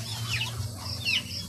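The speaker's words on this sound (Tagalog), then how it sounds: "mga alaga naming manok at pato" Pet chickens cluck softly in a backyard flock with ducks, a couple of short clucks over a low steady hum, close and fairly loud.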